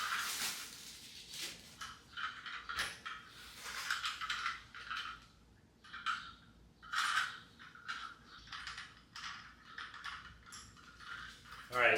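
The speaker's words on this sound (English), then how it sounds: "what I'm doing is actually unscrewing this" A small tool clicks and ratchets in irregular bursts as a bracket is unscrewed while assembling a HeyBike Ranger e-bike, with close metallic clinks and scrapes.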